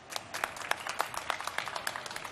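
Audience applause at a startup pitch-battle event, fairly faint and light with individual claps standing out, lasting about two seconds.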